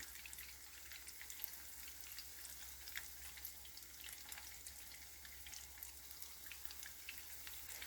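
Onion rings frying in hot oil in a pan give a steady, close, low-level sizzle and crackle that runs unbroken throughout.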